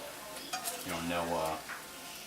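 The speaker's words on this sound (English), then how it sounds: "Now I'm just gonna stir it around." Spinach with grated cheese is stirred in a pan, giving a brief soft scraping swirl with a faint sizzle, heard close and quiet.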